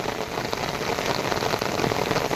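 A heavy rainstorm soaks farmland where goats huddle beneath trees, the drumming of drops dense, close and sustained throughout, without any speech.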